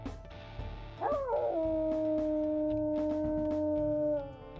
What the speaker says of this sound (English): Now, I'll also go ahead and listen to her howls here.